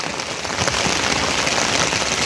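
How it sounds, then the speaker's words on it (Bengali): Heavy rain pours steadily at the mouth of a river where three rivers meet, a loud, dense, even hiss of drops hitting surfaces throughout, with no voices. "দেখতে পাচ্ছেন প্রচণ্ড বৃষ্টি"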